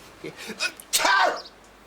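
A single close, forceful sneeze erupts after a brief intake of breath, short and sharp.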